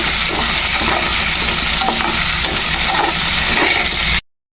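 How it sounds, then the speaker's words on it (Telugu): Red chillies, cumin seeds and coriander seeds dry-roasting in a pan for a ridge gourd chutney, giving a steady close crackle and scrape of stirring, with no voices. "బాండిలో కొంత జీలకర్ర కొన్ని ధనియాలు ఎండుమిరపకాయలు అయితే కొద్దిసేపు అయితే వేయించుకోవాలి"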